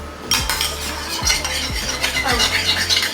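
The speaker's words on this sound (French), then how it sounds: "Mélanger les blancs d'œufs non montés avec le colorant." Unwhipped egg whites and food colouring are mixed in a bowl with a utensil, giving repeated scraping clinks and swishes that are close and steady, with no speech.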